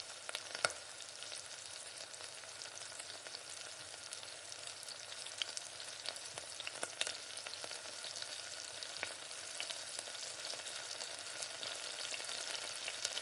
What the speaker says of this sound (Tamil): இப்போ கடுகு, இதோட கடுகு நல்லா பொரிஞ்சு வரணும்.